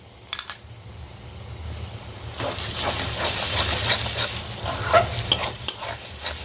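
Tomato and cashew paste curry for chicken do pyaza is stirred in a pan over low heat. Close scraping strokes of the spoon run over a continuous sizzle, with no talking.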